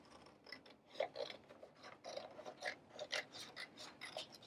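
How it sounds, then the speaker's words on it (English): Quiet, close snipping and crunching of scissors cutting through fabric, a series of short irregular cuts. "I'm going to go ahead and cut this out roughly."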